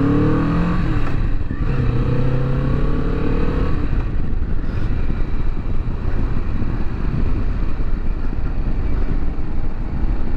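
A 2019 Kawasaki Vulcan S motorcycle is ridden on the road, its engine droning loud and continuous with a rising rev early on, mixed with heavy wind rush.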